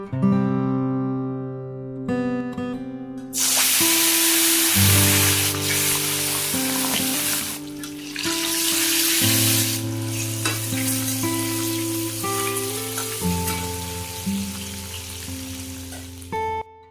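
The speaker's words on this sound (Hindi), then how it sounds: "मैं फ़िश फ्राई कर रही हूँ" Fish sizzles loudly in a frying pan for dinner, a steady close crackle and hiss over a sustained tonal background that rises in intensity after a few seconds.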